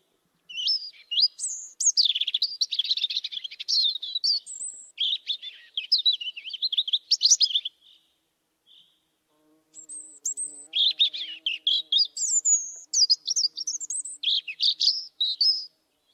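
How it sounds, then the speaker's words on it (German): A European robin sings in a garden hedge, with clear, rippling, high-pitched phrases close by that pause briefly and then resume, and a faint low hum in the background. "der uns oft auch im Winter mit seinem schönen, perlenden Gesang erfreut."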